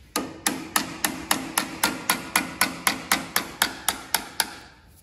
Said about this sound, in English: I wanna get a small hammer.